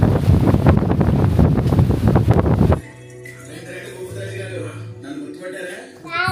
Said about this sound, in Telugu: ఎంత బాగుంది, చల్లటి గాలి, వర్షం గాలి.